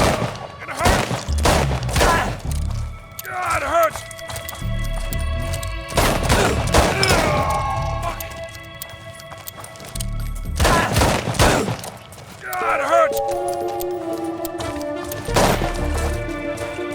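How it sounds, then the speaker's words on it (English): Bursts of video-game gunfire in Chernobylite 2, loud volleys of rapid shots and booms in several clusters, with brief gaps and a voice heard between them. "Nice shooting, Cole."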